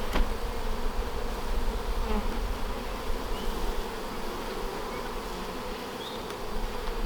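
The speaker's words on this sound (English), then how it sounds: "seeing that amount of bees can be unnerving" Dense, steady buzzing of many honey bees swarming close around a hive, a continuous droning hum that persists throughout without pause.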